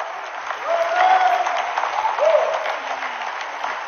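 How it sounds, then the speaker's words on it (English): Audience hands clap steadily throughout a church sermon, a dense, continuous patter that swells slightly midway and holds, with a faint sung or sustained tone drifting underneath. "Somebody clap your hands."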